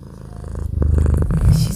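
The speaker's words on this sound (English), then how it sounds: "She's rubbing herself on the mic, purring into it" A cat purrs right into the microphone while rubbing against it, a close, loud rumbling purr with pulsing rhythm mixed with soft thumps and scuffs of fur brushing the mic.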